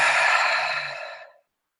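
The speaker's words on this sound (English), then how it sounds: "A few more deep breaths." One long exhale during a meditation breathing exercise, an airy, close breath that fades out over just over a second.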